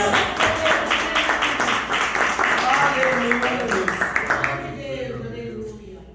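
A church congregation claps in a steady rhythm, the even beat of many hands carrying under a voice for several seconds before fading away.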